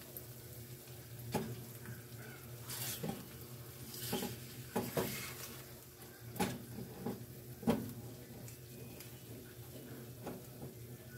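Eggs frying in a pan, a steady soft sizzle running throughout with intermittent scraping and utensil taps against the pan, close and moderately quiet with no voices.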